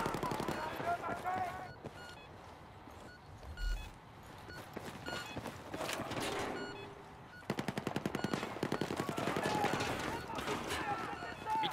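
Machine gun fire in the Battlefield 4 video game, rapid bursts of gunshots crackling through a busy battlefield mix, with louder sustained firing near the end and a radio-style voice speaking over it.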